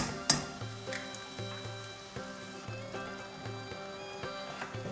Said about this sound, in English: So reduce your heat and crack your eggs straight into the dish